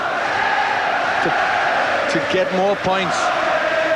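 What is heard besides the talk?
boxing crowd cheering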